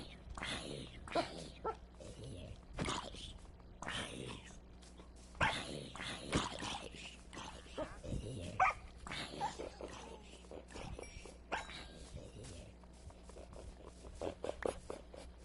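Tamed wolf puppies in Minecraft Bedrock Edition give short, repeated barks and yips scattered throughout, with someone talking over and between them at moderate level.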